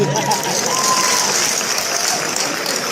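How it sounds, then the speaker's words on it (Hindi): Women in an audience at an RCM business meeting clap together in a continuous patter while voices carry over it. "केवल लेडीज तालियां बजा रहे हैं अभी"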